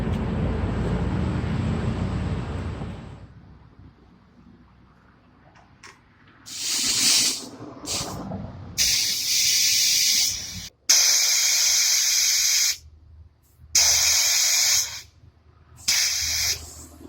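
Air rushes out of Firestone Indy 500 (Firehawk) tires being let down, in loud, steady hissing bursts that start and stop repeatedly, close by, after a low rumbling opening.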